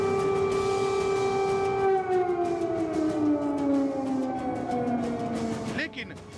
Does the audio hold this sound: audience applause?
no